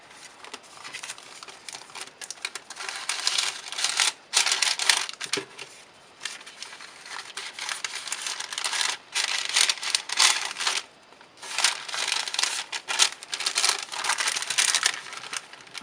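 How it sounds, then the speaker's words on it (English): Paper bag crinkling and rustling as an illustration studio order is packed, close and continuous with irregular crackly bursts and a few brief pauses over nearly sixteen seconds. "I'm going to use the paper bag"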